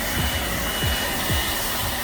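Battery-powered backpack leaf blower running on low at half battery, a steady loud airy roar with faint rumbling thumps underneath and no talking.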